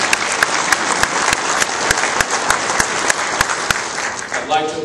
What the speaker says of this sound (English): I'd like to applaud your commitment